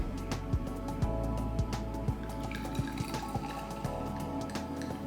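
A drink is poured into a glass in a presidential hotel suite in Puerto Vallarta: a steady liquid trickle close by, with sharp little clinks and drips repeating throughout.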